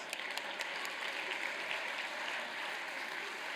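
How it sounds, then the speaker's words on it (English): A TEDx audience gives a round of applause after an improvisation talk, a steady wash of many hands clapping at moderate, somewhat distant volume with no voices over it. "Round of applause."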